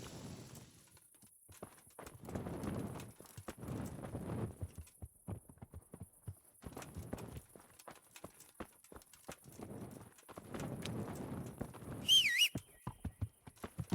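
Horse hooves clip-clopping in Kingdom Come: Deliverance, a medieval game, in bursts of moderate loudness with quiet gaps, and a short sharp whistle near the end.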